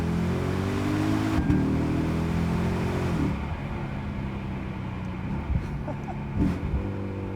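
A deep Lexus IS-F V8 engine from 2008 rumbles and rises in pitch as it revs, then eases off to a lower growl with a few brief blips.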